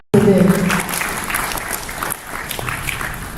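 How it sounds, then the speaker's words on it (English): An audience claps together for event sponsors and exhibitors at a conference-style gathering. The applause is loud and dense from the first moment, then eases back to a steady, softer patter that continues to the end, with some voice sounds mixed in. "Let us clap for them."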